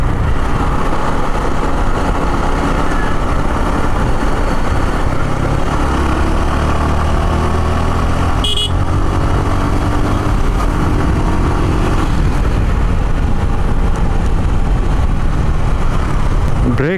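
Auto-rickshaws and other three-wheelers run alongside on a busy Bangladesh highway, a loud steady engine and road roar heard close from a moving motorbike, with wind rush throughout and a brief sharp sound midway.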